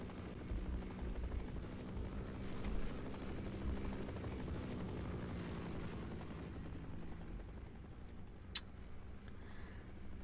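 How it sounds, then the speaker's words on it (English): A helicopter's rotor thrums steadily, fairly faint and distant, in the video game Half-Life, with a continuous low chopping drone and a brief high tick near the end. "I want to take down that helicopter"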